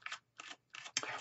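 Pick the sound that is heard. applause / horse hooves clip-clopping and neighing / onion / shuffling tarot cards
shuffling tarot cards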